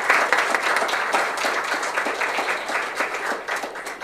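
A large audience at an award ceremony in a municipal music school bursts into sustained, dense applause, loud and close, holding steady for several seconds before tapering slightly.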